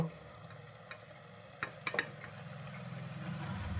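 Faint, steady sizzling from a pan of chopped boiled egg with turmeric and garam masala, broken by a few soft scrapes and clinks of a spatula stirring the food.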